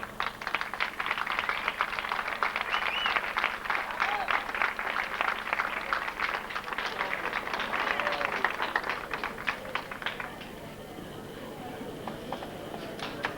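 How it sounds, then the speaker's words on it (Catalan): Strong, sustained applause from a crowd at the 1991 Artesa town festival as the festival queen is proclaimed, dense clapping for about ten seconds before thinning out, with a voice speaking over it. "I se fort aplaudiment per a Raquel"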